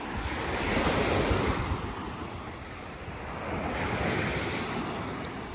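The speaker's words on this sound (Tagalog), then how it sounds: "Ang alon, no?" Ocean surf rolling and breaking in broad washes of noise, swelling and easing twice, with wind buffeting the microphone throughout.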